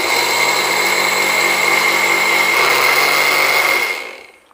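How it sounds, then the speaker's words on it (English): A kitchen mixer grinder blitzes oats into powder, a loud, steady high-pitched motor whine with a gritty churn that runs for about four seconds before winding down and cutting off. "I'm just dropping them in the mixer right now. And I'll give it a mix and convert it into a powder"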